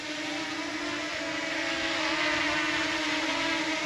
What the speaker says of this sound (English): the little Mini, just nice and smooth takeoff here